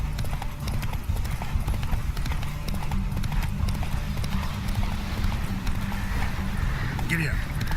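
Hooves of a galloping horse in The Witcher 3 beat in a fast continuous clip-clop at close range, with a brief whinny near the end and a voice talking over it.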